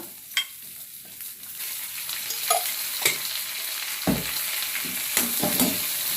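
Radish chutney ingredients, including torn dried red chillies and coriander leaves, sizzling in oil in a pan, with a steady fry punctuated by repeated spatula scrapes and stirs at close range.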